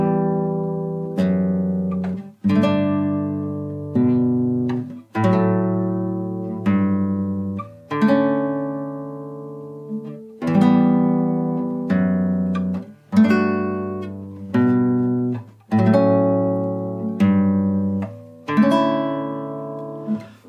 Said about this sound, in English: My guitar's in standard tuning and the first line sounds like this.